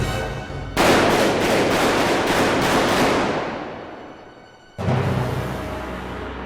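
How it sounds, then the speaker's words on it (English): Gunfire effect for the Gunfight at the OK Corral, loud cracking volleys of shots rattling in quick succession before fading away, then a second burst starting abruptly, with no voices. "32 shots were fired in the space of about 23 seconds"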